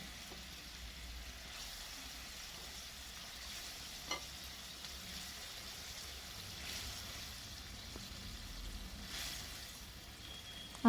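Fish pieces fry in spiced oil for a Bengali doi mach curry, giving a steady, quiet sizzle with faint crackles and occasional stirring clinks, close and continuous throughout.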